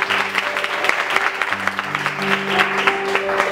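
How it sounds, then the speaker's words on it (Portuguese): A church congregation at a youth congress applauds together, a dense continuous wash of clapping with steady hum from the hall running underneath, moderately loud throughout. "Vamos aplaudir a palavra do Senhor."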